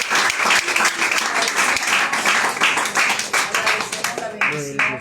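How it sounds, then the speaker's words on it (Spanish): A church congregation claps loudly and densely for several seconds, the applause thinning near the end as a voice begins speaking. "demos un aplauso a nuestro"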